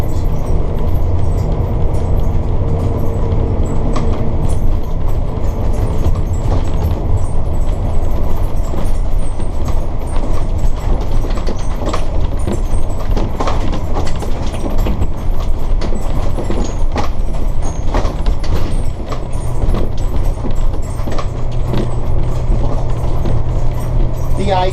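Sportscoach diesel motorhome rolling along a back road, a steady low engine and road rumble with rattles and clatter throughout, while someone talks over it.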